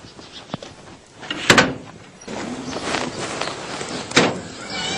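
A house door being opened: a sharp latch click and rattle followed by a scraping, sliding swing of the door, then another clack near the end, all fairly close and moderately loud.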